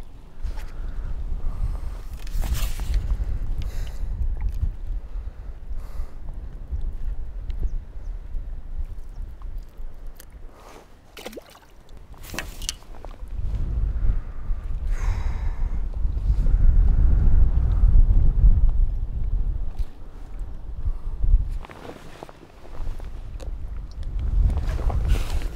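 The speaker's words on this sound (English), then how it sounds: "Wind's getting a bit tricky." Wind gusts buffet the microphone beside a reservoir during pole fishing. The low rumbling swells and fades in uneven surges, with a stronger sustained blast near the middle and no talking.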